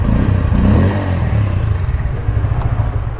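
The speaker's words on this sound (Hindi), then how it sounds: "तो एक बार बाइक ऑन करके थोड़ी सी साउंड और सुना दूँ आपको" A Bajaj Pulsar P150 BS6 motorcycle idles with its underbelly exhaust, giving a loud, close, steady low engine rumble with a slight swell early on and no talking.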